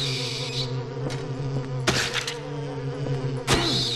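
Mosquitoes buzz in a Silent Hill 4 game scene as a steady, close insect whine with a low hum beneath, broken by two sharp louder clicks or hits.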